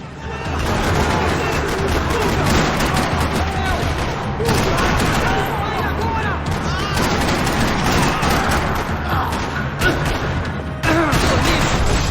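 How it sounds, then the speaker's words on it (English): Gunfire rattles through a parking lot in the video game Max Payne 3, a dense, continuous barrage of shots and impacts over about twelve seconds, loud throughout with brief dips and renewed bursts. "Another parking lot rattling with gunfire."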